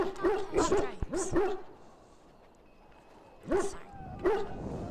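A dog in the video game Dragon Age barks in two short, close volleys separated by a quiet gap, sounding over the game's background ambience.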